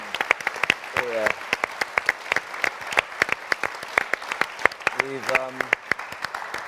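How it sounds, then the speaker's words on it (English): Conference audience applauds the organisers at a television convention in Cambridge, sparse sharp claps ringing out over a brief spoken voice. "I think a round of applause for what we've seen here."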